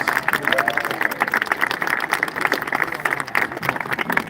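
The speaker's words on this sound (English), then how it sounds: "So if we can give them a big round of applause for our District 12 custodians." Audience at a junior high school graduation ceremony applauding, a dense, steady wash of clapping with some crowd murmur throughout, fairly loud and continuous.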